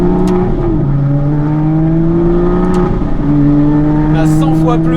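An Aston Martin V12 Vantage S accelerates hard with its 573-horsepower V12, a loud, steady engine drone whose pitch climbs in two stepped pulls with a brief dip between gear changes.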